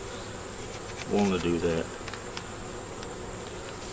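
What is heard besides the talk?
honey bees buzzing around a hive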